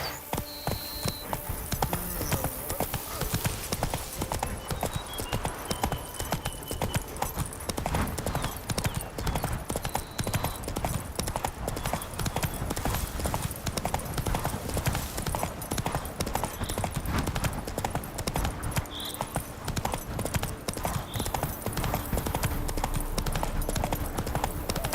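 Geralt's horse Roach from The Witcher 3 galloping in a steady, continuous clip-clop of hooves, close and loud throughout, with an occasional whinny and faint game ambience underneath.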